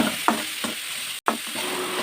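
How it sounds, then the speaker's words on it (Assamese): Tomatoes and green chillies fry in a pan with a bright, continuous sizzle, broken by a few scraping stirs and one brief dropout, heard up close with no talking. "এতিয়া এইখিনি মই অলপ সময় ভাজিম"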